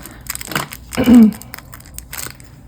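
Plastic packaging of citrus-slice jewelry beads being opened, with crinkling and crushing rustles and one louder crunch near the middle, close and short.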